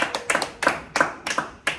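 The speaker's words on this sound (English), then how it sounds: "Round of applause." Hand claps in a small room, a few sharp, separate strikes spaced unevenly, close and dry, with no voices.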